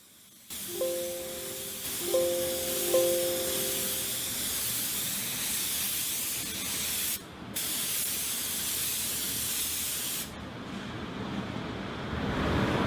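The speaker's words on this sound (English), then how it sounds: "my plan is to spray to a wider area first with a blending coat" A spray gun applying car base coat paint hisses steadily for several seconds in long continuous passes, with short pauses between bursts and a brief tonal hum near the start.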